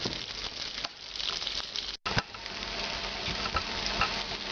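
Ingredients for Oaxacan pork mole toasting in a hot pan, a continuous close crackling sizzle with stirring scrapes, briefly cut off midway before resuming.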